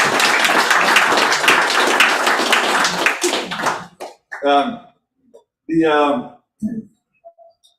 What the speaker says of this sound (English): This gentleman over here, right here, needs a round of applause for leading this organization